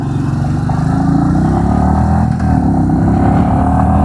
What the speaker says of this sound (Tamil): இப்போ நம்ம ஃபஸ்ட் கியர்லேருந்து மூவ் பண்ணி பார்ப்போம் எந்த அளவுக்கு பவர் ஜென்ரேட் பண்ணுதுன்னு